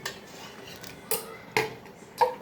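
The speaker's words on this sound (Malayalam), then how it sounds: "നമുക്ക് ഈ വറുത്ത് വെച്ച അണ്ടിപ്പരിപ്പ് മുന്തിരി അതിലിടാം" A spoon knocks against a pot of green gram payasam as fried cashews and raisins are stirred in, giving three sharp, quiet clinks over a soft background hiss.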